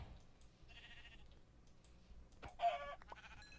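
A sheep in a Minecraft-style video game bleats a few short times, mixed with small clicks and game effect sounds, all fairly quiet with no talking.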